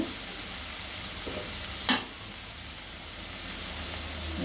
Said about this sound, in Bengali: এখন এটা ভালো করে কষাই নেব, নাড়াচাড়া দিয়ে